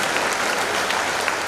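Steady applause from an audience at a youth forum gathering, dense and continuous clapping filling the whole moment without speech.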